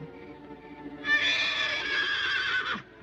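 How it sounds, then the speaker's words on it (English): An old horse whinnies once, loud and close, a high shaky neigh lasting about two seconds that trails off into a lower snort, in a 1959 film. "It's just an old horse whinnying."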